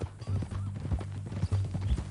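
Rapid horse hooves in a video game clop steadily on hard ground, a quick repeating rhythm with a low rumble beneath, close and fairly loud.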